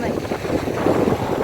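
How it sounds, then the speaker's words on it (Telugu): Strong wind buffets the microphone on the Pamban bridge, a steady low roaring rumble throughout, while a person briefly speaks over it. "బ్రిడ్జ్ అయితే అమ్మో చాలా విండ్ ఎక్కువ ఉందండి"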